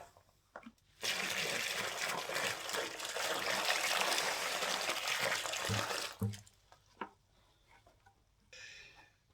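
Water poured from a container into freshly set fence-post concrete, a steady splashing pour that runs for about five seconds, then a few light knocks and drips before a brief quieter trickle near the end.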